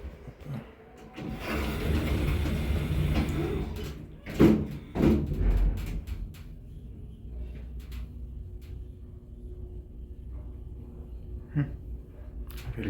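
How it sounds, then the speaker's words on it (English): A 2000 KONE TMS50e traction elevator passing through its shaft in a residential condo, a low rumbling whoosh that swells and fades, with a couple of knocks midway and faint rattles afterward. "Elevator just went by."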